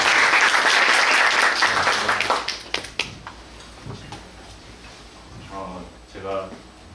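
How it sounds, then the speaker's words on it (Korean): Loud applause from a lecture audience at a university career talk for aspiring developers fades out over about three seconds, leaving a few scattered claps and faint room noise, with a voice briefly speaking near the end. "큰 박수로 해주십시오"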